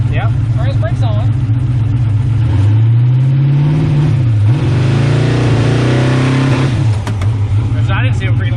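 A turbocharged LS-powered car revs in first gear while held on the brake, engine loud and close, its tone rising, dipping and swelling in a sustained strained pull, with brief speech at the start and end.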